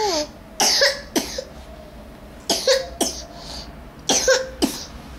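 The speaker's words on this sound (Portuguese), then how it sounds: "Que tosse." A young child coughs in three separate short fits after choking while being put to bed, each burst loud and near, with quiet pauses between.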